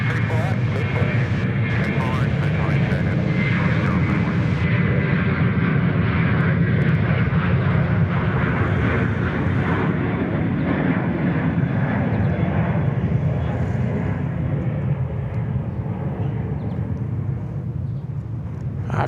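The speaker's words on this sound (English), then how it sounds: "I think we had Dynasty just cleared to land there at 34 right." An airliner lands on runway 34 right at Sydney Airport, its engine roar loud and steady and slowly fading over the whole stretch, with a voice talking over it.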